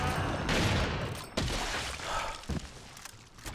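Rapid, dense gunfire from the video game Resident Evil 4 fills the whole moment as a steady barrage of shots, with sharp cracks and thuds layered over one another.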